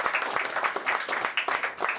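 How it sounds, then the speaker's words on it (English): A small studio audience gives a short round of applause, scattered claps rising and falling over a couple of seconds at moderate volume with no talk over it. "Give yourselves a round of applause."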